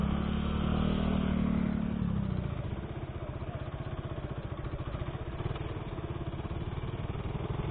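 Honda Beat motorcycle engine running close by, a loud steady putter with a rapid even pulse after an initial higher drone, with no speech over it.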